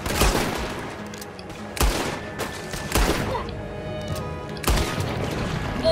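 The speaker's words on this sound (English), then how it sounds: "Whoa! Gunshot!" Gunfire in Red Dead Redemption 2 in a game town shootout: repeated loud, sharp shots in irregular bursts, several heavy cracks standing out over a dense, busy background of game sound.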